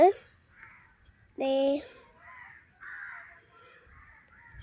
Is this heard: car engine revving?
no